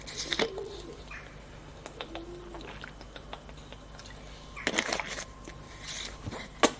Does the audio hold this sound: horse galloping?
no